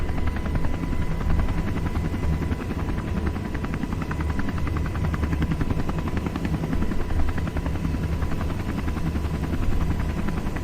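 A helicopter in a space flight video game taking off, a steady loud rotor drone with a fast, even chop that stays constant throughout with no talking.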